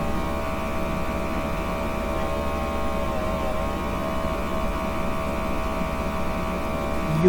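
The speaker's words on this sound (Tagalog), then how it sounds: "Yung mga aircon." Air conditioners in a room in Saudi Arabia give off a steady, unbroken hum with a broad airy hiss. It stays level and constant from start to finish, with no talking.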